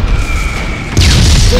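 A deep boom bursts out suddenly after a steady low hum, leaving a rumbling tail: a cannon firing in the game Darkfall.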